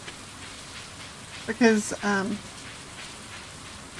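Rain falling on a farm in a farming video game patters as a steady, soft hiss throughout, with a brief spoken word rising over it midway.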